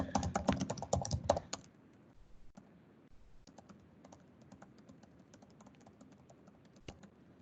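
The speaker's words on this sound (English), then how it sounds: "So so that's your password, and typing your email address." Rapid keyboard typing clatters loudly and densely for about a second and a half while a password and email address are entered on a computer, then falls to sparse, faint keystrokes scattered over a quiet background.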